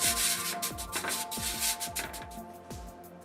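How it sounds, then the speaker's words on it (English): Flour is rubbed by hand across a pizza pan in quick, repeated scraping strokes, soft and close, with no talking. "Just give it a slight rub."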